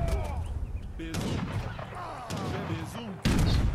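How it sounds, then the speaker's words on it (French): Cannon and gunfire blasts from an Age of Empires III battle against the Aztecs, with repeated sharp booms and crackling shots over busy game noise. A heavy blast lands near the end, and someone talks over the action. "Les canons! Usez les canons!"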